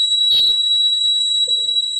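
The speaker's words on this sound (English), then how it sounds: "The burglar alarm gives her reason to get going." A smoke shop burglar alarm sounds as a steady, piercing high electronic tone, with a brief clatter near the start and a faint sound near the end.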